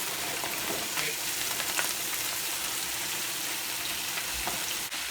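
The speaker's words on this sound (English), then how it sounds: "So I'm gonna get this right here sauteed off in this oil that's in the pan." Spinach sautés in oil and Alfredo sauce in a pan for chicken breast dinner, giving a continuous close sizzle with light crackles and a few soft stirring clicks, no voices.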